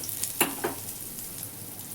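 Asafoetida dropped into hot oil in a pan hisses with a soft, steady sizzle, marked by two brief sharper crackles early on, quiet and close, with no talking.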